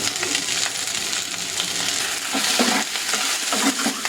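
Garlic and onions frying in a pan, a dense close sizzle with intermittent crackles and a few soft stirring knocks.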